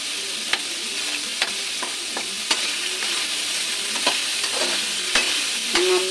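Garlic sautés in a pan for a beef sotanghon dish, a steady sizzle broken by regular sharp clicks of a utensil scraping and stirring, close and fairly loud.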